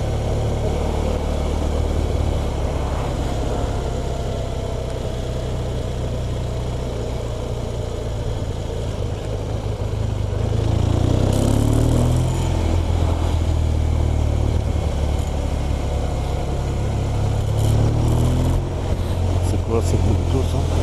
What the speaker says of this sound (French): C'est pire en pire la circulation.